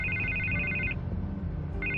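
A telephone ringing in a Batman video game, an electronic trilling ring that stops and then starts again, heard close over a low rumbling background.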